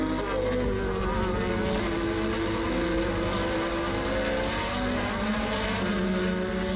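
Formula 1 race cars of 1985 at Kyalami in South Africa, including Williams Honda, Brabham and Lotus machines, howl continuously at full throttle, several engines layered with rising and falling pitch.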